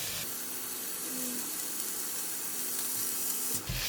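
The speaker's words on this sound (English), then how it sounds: "and stir fry. Increase the heat and continue to stir fry until the rice mix well with all the ingredients." Rice stir-fried in a wok with sugar, oyster sauce, light soy sauce, sesame oil and chili sauce gives a steady, close broadband hiss and sizzle, broken by a brief knock near the end.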